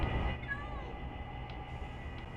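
Minecraft cats meowing in a video game, a couple of short mews rising over a steady hum of background noise, moderately near.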